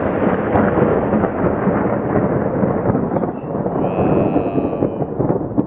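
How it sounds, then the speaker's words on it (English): Heavy thunder rumbles continuously through a rainstorm, a loud, deep roll that swells and fades without pause while rain patters underneath. "Rain keeps stopping and starting again, but the storm just slowly rumbles on."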